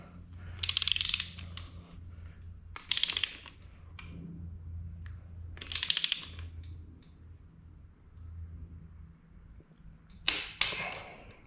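A torque wrench ratchets on engine cylinder head bolts during an Ecojet engine build, giving four separate bursts of quick close metallic clicking with quiet pauses between them over a low background hum.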